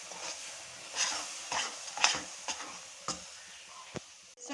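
Gram flour roasting in a pan gets stirred with a spoon, producing a series of soft scrapes and taps at irregular intervals over a faint sizzle, fairly quiet and with no talking.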